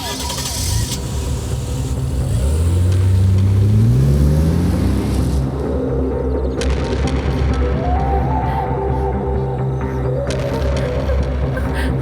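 A car engine revs up with a rising pitch as the vehicle pulls away, loud and close, then settles into a steady running drone with a voice speaking over it.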